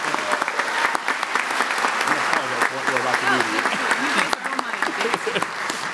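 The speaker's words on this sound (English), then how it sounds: "could we please give a round of applause for our troops?" An audience at a barbershop quartet anniversary show claps for the troops, a loud sustained round of applause with cheering and voices rising through it, dipping briefly near the end.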